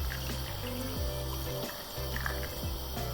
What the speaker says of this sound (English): I'm going to just add some more water now because I feel as though we need a bit more water in that